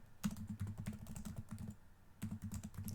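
Steady typing on a computer keyboard, close rapid clatter of keystrokes in bursts with a short pause before another flurry, with no talk over it.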